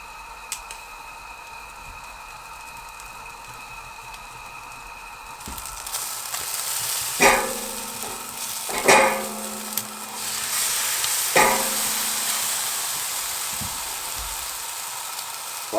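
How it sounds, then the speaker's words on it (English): Steak sizzles on a barbecue inside a tent hut during freezing -35°C winter camping: a quiet start, then a sudden loud hiss of frying with several sharp clanks and taps of cooking tools. "Barbecue and steak in the tent."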